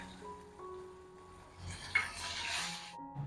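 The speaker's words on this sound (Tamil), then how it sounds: "தாளிக்கிறதுக்கு வந்து கடுகு, ஒரு 10 சின்ன வெங்காயம் கட் பண்ணி வச்சிருக்கேன், அதையும் வதக்கிக்கலாம்." Mustard seeds, about ten chopped small shallots and curry leaves sizzle in hot oil for tempering, a soft crackling fry building midway with a faint stir and clink, no talk.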